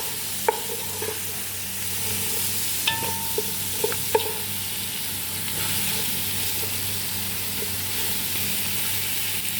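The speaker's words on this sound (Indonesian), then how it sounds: "Lalu kita aduk-aduk biar tercampur rata." Maqluba rice ingredients stirred in a pan over sizzling heat, with a few light clicks of the utensil against the pan over steady frying hiss.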